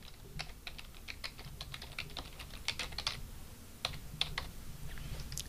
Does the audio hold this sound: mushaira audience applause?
no